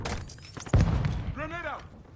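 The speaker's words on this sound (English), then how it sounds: "Stun grenade out!" A stun grenade detonates in the Call of Duty: Modern Warfare II video game as one heavy, close thud, followed by a short rumbling tail with a voice calling out over it.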